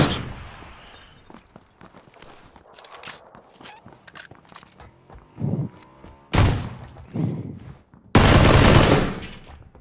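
Gunfire in the battle-royale game PUBG: scattered shots and thuds build to several loud, dense automatic bursts near the end, close and sharp, with no talk over them.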